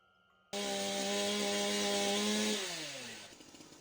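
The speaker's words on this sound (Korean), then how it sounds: "전기톱 소리였죠." A chainsaw roars to life in a basement, holding a loud, steady buzzing whine for about two seconds before the pitch drops and the engine winds down, with no voices.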